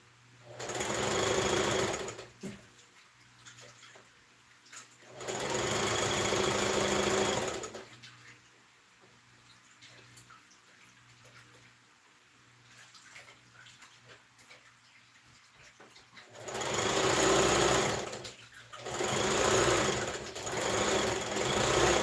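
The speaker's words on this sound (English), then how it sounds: "Oh, oh, and I was sewing." Sewing machine stitching Ankara fabric for a front-slit skirt, running in three loud bursts of a few seconds each with quieter pauses between them.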